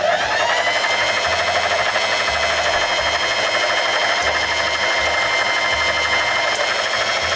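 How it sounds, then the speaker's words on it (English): A sewing machine winding a bobbin runs with a loud, steady high whir throughout, while a low motor hum pulses underneath without pause. "To use a sewing machine though, you need a bobbin, which is what I'm rounding up now"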